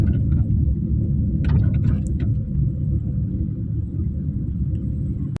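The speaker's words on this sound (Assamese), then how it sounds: "এতিয়া গাড়ীখন ৰখাবলৈ গৈছোঁ" A car engine rumbles low and steady at close range as the car is brought to a stop during a driving lesson, with a continuous drone and no voices.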